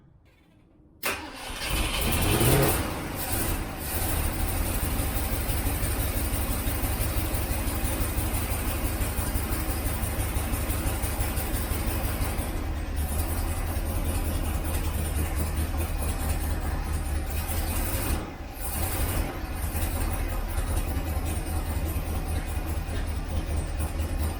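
A car engine fitted with a Holley carburetor, running very rich, cranks and starts, then idles loudly and steadily up close with a rough, rumbling drone and a few brief dips.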